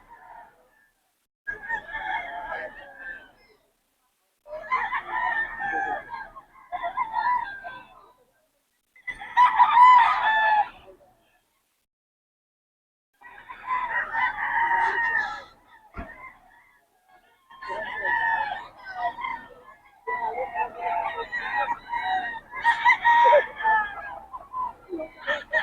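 Stag roosters bred as fighting cocks crow repeatedly at close range, several loud calls in separate bursts with short quiet gaps between them.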